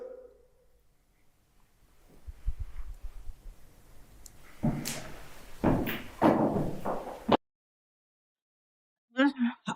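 Heavy thuds from people walking on the floor inside a building, a run of dull low knocks and footfalls that grows louder before cutting out, followed by brief voices.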